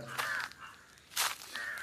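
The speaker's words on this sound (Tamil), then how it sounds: "அங்கே பாருங்கள் காக்காவாக எக்கச்சக்கமாக கத்தி கிடக்குது" Several crows caw loudly in an oil palm plantation, a harsh call near the start, another burst past the midpoint and a third toward the end, alone with no talk.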